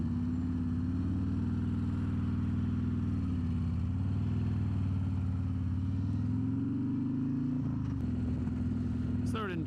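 A Harley-Davidson CVO Road Glide ST bagger motorcycle rumbles at low speed through a U-turn, its engine a steady deep drone with slight pitch shifts, heard up close with wind noise and a rider talking over it.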